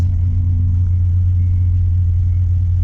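A Honda Civic's engine produces a steady, loud, low rumble, a constant drone heard from inside or close to the car with no voices over it.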